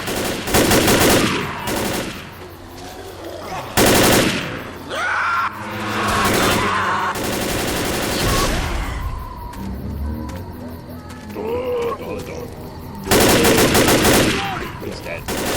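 Gunfire in the zombie shooter Left 4 Dead, loud bursts of automatic and single shots coming in several clusters over sustained game noise, with brief voices mixed in.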